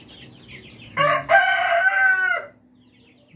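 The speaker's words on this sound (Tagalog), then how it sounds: "Rhode Island. Yan yung rooster natin." A Rhode Island rooster lets out a single close, loud crow lasting about a second and a half, with quiet background before and after.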